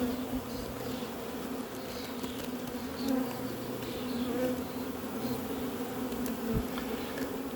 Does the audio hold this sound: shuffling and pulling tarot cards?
no